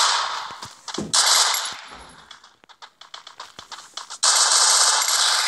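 Rapid bursts of MP40 submachine gun fire come from a shooter video game. Loud automatic volleys open and close the stretch, with scattered single shots and clatter between them.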